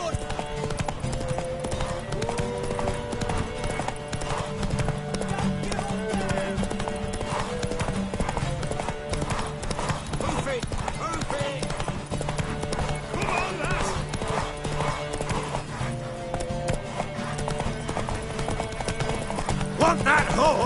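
Rhythmic hoofbeats clatter steadily beneath music in The Witcher 3 on PS5, with a horse whinnying at points, all loud and continuous throughout.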